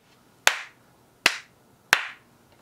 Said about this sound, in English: you can have two things plugged in, clap two or three times,